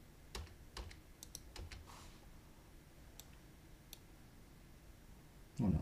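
Computer keyboard keys tapped in short scattered bursts, light clicks close by against a quiet room hum, ending with a brief louder low thump.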